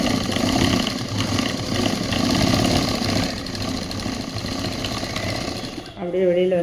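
A sewing machine runs steadily, stitching a center seam on a government school uniform shirt, with a continuous dense mechanical whir that stops briefly near the end before restarting.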